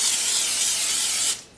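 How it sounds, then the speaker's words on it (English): Cooking spray misted into the inside of a crock pot, one continuous close hiss lasting over a second and then cutting off. "So I'm going to just spray the inside of my crock pot"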